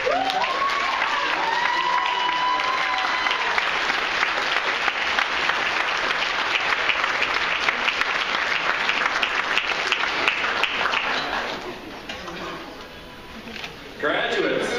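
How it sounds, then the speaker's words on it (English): Graduation ceremony audience applauding families and friends at Globe University's Madison spring 2012 commencement, a long sustained wave of clapping from a large crowd that fades around twelve seconds, followed by a voice speaking. "give a round of applause to your families and friends for their encouragement"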